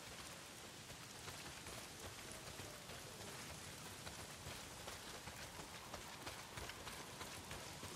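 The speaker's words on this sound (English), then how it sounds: "Well, not if it's pissing down rain." Rain pours down steadily in a survival video game, a dense, even hiss of drops hitting surfaces that stays loud and close and never lets up.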